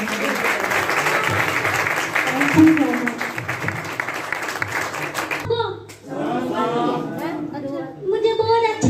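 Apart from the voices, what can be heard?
audience applause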